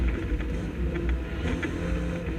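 Onboard a Honda Civic Si race car working through traffic at Mosport, a steady loud engine drone with gear changes and shifting revs, other cars faintly nearby, no talking.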